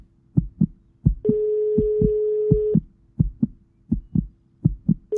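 A phone call's ringback tone repeats over and over: short pulsed beeps in a steady rhythm, broken by one longer sustained tone in the middle, clear and alone with no voices.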